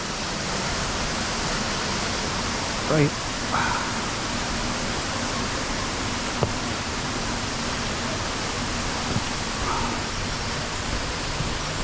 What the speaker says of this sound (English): get a closer look to the waterfall where it's dropping down from the top